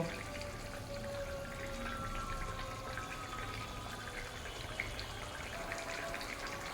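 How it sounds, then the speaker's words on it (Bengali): Egg curry gravy left uncovered and boiling hard on a high flame, giving a steady close bubbling hiss with small pops throughout and no talking. "হাই ফ্লেমে এরকম তো ফুটতে থাকবে"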